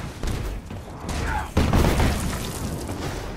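Fireworks exploding in Marvel's Avengers video game, heavy booming blasts with a rumbling crackle, one sharp loud burst midway, over faint talk.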